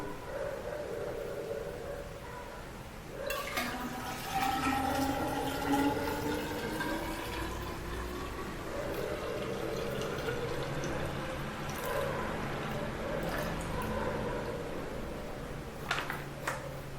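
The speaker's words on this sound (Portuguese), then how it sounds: "Eu vou colocar a mesma quantidade de água." Water pours steadily into a measuring bottle already holding half a litre of gasoline, a gurgling, rising fill sound lasting most of the stretch, fairly close, with small drips and splashes near the end.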